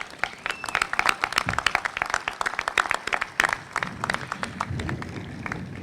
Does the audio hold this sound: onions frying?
no